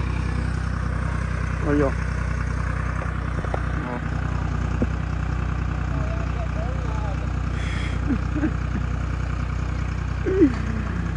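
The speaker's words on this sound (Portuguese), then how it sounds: "Aí ele vai subindo marcha ré" A tow truck's engine drones steadily at low pitch as it reverses uphill, with a voice speaking briefly over the constant rumble.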